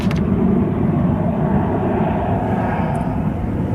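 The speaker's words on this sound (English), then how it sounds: "We've got a Lauda. That's an A320." A Lauda Airbus A320 jet at Manchester Airport produces a loud, continuous low engine rumble and roar that stays even throughout, heard alone without speech.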